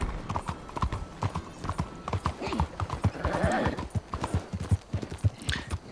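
Steady, rhythmic horse hoofbeats clop along at a quick gallop in the video game Red Dead Redemption 2, with a brief horse whinny partway through, close and fairly loud throughout.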